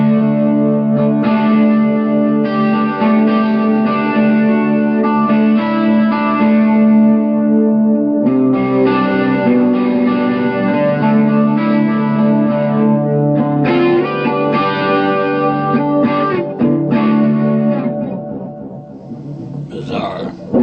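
Electric guitar played through combined amplifiers on the gain channel with a chorus preset, producing loud, distorted, shimmering sustained chords with swirling modulation and reverb across the whole stretch before fading slightly near the end.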